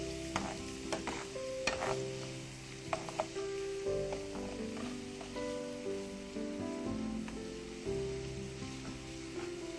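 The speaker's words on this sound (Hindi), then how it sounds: "प्याज डालने के बाद हम इसको थोड़ा सा ब्राउन करेंगे।" Onions fry and brown in a pan with a steady, busy sizzle, broken by occasional stirring scrapes and clatters, fairly close and continuous throughout.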